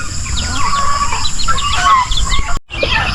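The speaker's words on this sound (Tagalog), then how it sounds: "naglalabasan ng ibang mga sisiw" Chickens and chicks cluck and peep steadily beside a netted enclosure on a small Filipino animal farm, with overlapping bird calls continuing throughout at close range.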